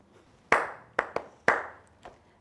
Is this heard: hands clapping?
yes